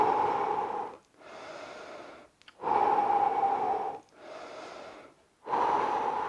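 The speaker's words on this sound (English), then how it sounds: "We're gonna take a minute break. We're gonna breathe." Heavy breathing during a rest break in a home workout, with loud, close inhales and exhales alternating in a slow, regular rhythm.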